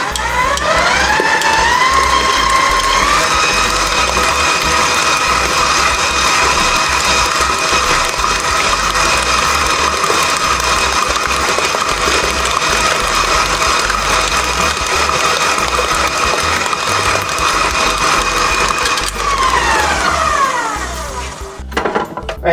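A stand mixer whirs steadily while beating lemon cheesecake batter with eggs, its motor pitch climbing as the speed is raised, then holding a loud, even hum for most of the stretch before winding down at the end.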